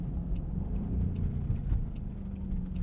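A 2022 Land Rover Defender 90 V8 pulls away in a launch, its engine a steady, fairly quiet rumble heard from inside the cabin.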